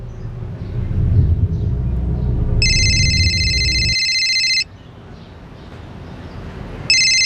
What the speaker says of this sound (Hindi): विवेक भैया का फोन।